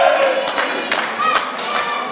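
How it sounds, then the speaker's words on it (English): A wrestling arena crowd roars steadily, with scattered claps and thuds rising through the continuous broadband noise as fans chant in support of a wrestler known as the Ripper. "Crowd chanting Barney in support of"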